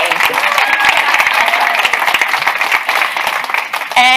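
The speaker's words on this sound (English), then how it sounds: "A big round of applause." Loud audience applause and clapping at a storytelling panel event, dense and continuous throughout, with a few voices audible among the crowd.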